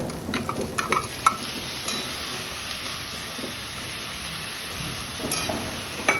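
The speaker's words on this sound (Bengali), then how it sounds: "এবার আমি এর মধ্যে দিয়ে দেব গোবিন্দভোগ চাল" Gobindobhog rice tipped into a pot of egg masala, soft rattling grains and scattered clinks of utensils against the pot over a low sizzle, faint and close with no talk.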